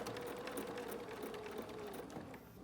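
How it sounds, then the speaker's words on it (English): A sewing machine stitches down the folded sides of a fabric mask, a quiet rapid mechanical whir with small rhythmic pulses, running continuously and alone. "So now what we're gonna do is sew down on each of these"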